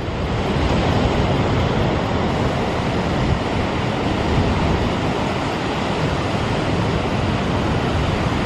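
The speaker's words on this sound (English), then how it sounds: "And last but not least, our wonderful beach." Ocean surf rolls onto a Jersey Shore beach in winter as a dense, constant roar of breaking waves mixed with heavy wind buffeting the microphone, loud and unbroken throughout.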